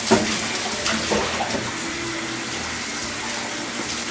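Tap water runs steadily into a sink while raw chicken is rinsed, a continuous close splashing rush with small clunks near the start.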